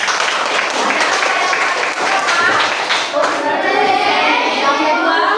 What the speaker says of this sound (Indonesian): Ya, tepuk tangan untuk Maher.